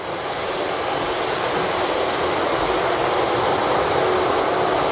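Engines of a Boeing 737-800 air force transport running on the apron at an airport before takeoff, a loud, steady jet roar with a high whine held throughout.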